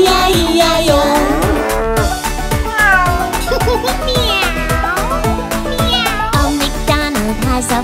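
Cartoon cat meows ring out over a bouncy children's farm-song backing, a sung "meow meow" line imitating the cat in a brisk, rhythmic nursery-rhyme arrangement.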